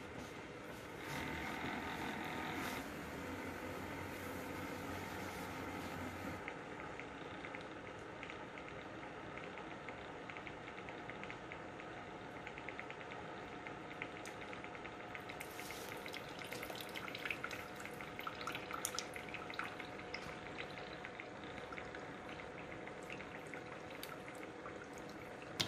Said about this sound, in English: I'm going to press the K button. And I come over here and hit the latte button.